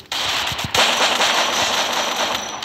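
Rapid gunfire in the Free Fire battle royale game during a Clash Squad match, a dense, loud burst of automatic shots lasting a couple of seconds with no talking.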